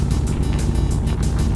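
A car driven in the video game Envirobear 2000 gives a steady, loud engine drone with low rumble and faint periodic surges, continuous through the short stretch with no voices.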